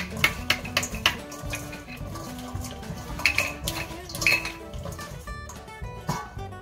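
Panzanella salad seasoned with black pepper is tossed lightly, with repeated soft clinks and knocks of utensils against a bowl in an uneven rhythm, close and moderately loud.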